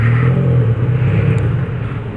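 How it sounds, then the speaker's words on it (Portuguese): A motorcycle engine rumbles and revs close by, a loud, continuous throaty growl that dips slightly and picks up again, with no voices over it. "Vou colocar minha moto aqui dentro."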